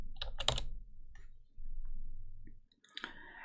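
Brief bursts of key clicks on a computer keyboard, a quick cluster at the start and another near the end, close and fairly quiet with a low hum between.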